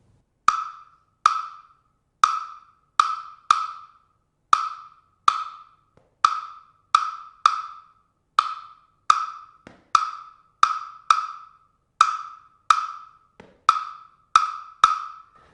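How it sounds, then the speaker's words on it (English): A 3-2 rumba clave rhythm played as sharp, bright wooden clicks, repeating the five-stroke pattern steadily several times with the third stroke of the three-side slightly delayed, close and clear with no talk. "the 3-2 rumba clave."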